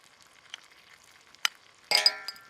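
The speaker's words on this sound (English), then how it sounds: "Oh, listen to that sizzle." Food frying in a pan at a wild camp in a Scottish pine forest: a faint background with scattered clinks, then a sudden louder hiss that fades over the last half second.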